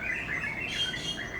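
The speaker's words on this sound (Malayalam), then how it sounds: "ഭയങ്കര കിളികളുടെ ശബ്ദം കേട്ടോ" Many birds chirp outdoors together in a steady, overlapping chorus of high tweets, fairly close and continuous with no voices.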